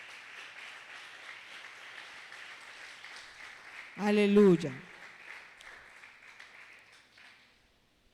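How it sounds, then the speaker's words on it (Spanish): Steady applause from a church congregation fills the clip, broken briefly by a single voice calling out in the middle before the clapping fades away. "Démosle un aplauso a nuestro Señor"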